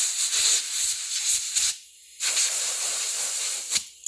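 Compressed air blasting sawdust out of a clogged fuel vent tube on an engine, a loud steady hiss in several bursts with a short pause midway, heard alone.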